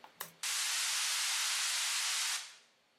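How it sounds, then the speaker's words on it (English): Synthesized spray effect like CO2 being released, treated with Valhalla reverb: a sudden loud broadband hiss after two short clicks, holding steady for about two seconds, then a reverberant tail fading away. "It actually really sounds like it's real, like someone's spraying some CO2 somewhere."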